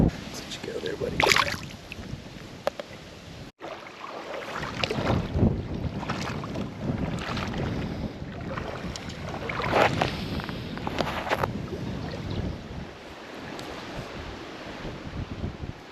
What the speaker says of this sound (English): Dang, that wind is whipping